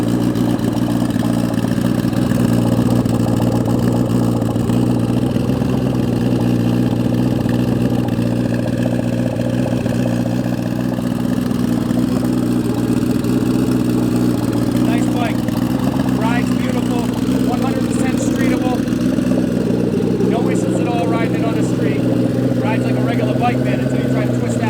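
A 1993 Suzuki GSXR1100 Turbo motorcycle engine runs steadily at idle, a loud continuous rumble with some clatter near the end, under speech.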